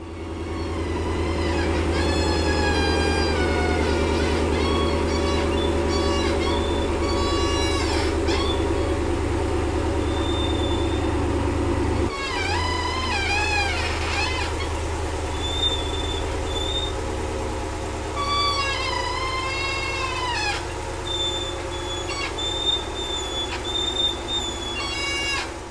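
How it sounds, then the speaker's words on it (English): Worn Core4x4 uniball upper control arms on a Ram Rebel truck give repeated high squeaks and creaking chirps over a steady, loud low rumble, with a sudden drop in the rumble about halfway through. "you can tell from the sound that the uniballs are clearly cashed in"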